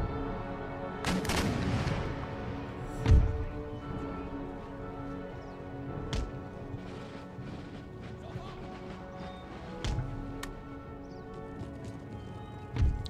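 Cannon and musket fire in the video game Empire Total War, sporadic heavy booms and cracks spaced several seconds apart over a continuous battle din with horse hooves, with a voice speaking at times.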